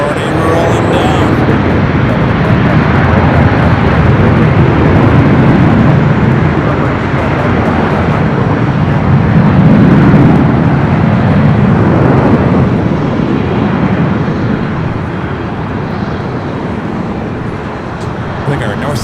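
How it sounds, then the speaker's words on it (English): A Delta Boeing 767-400ER bound for JFK rolls down the runway at Los Angeles International Airport on its takeoff run, a loud, dense, continuous jet roar that peaks midway and then slowly eases, with talk over it. "Up next, Delta Flight 951 heading to JFK. It's a 767-400 ER. Already rolling down."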